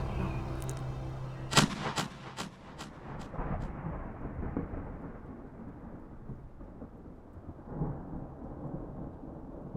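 A shotgun fires at a turkey during a spring hunt in Michigan woods, one loud blast followed by a long rolling echo that fades out over the outdoor background.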